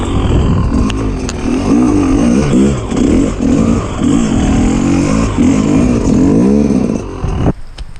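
A 2022 Rieju MR 300 Pro enduro motorcycle engine revs loud and close in wet Welsh conditions, a steady, rough roar with rising and falling pitch swells that cuts off abruptly near the end.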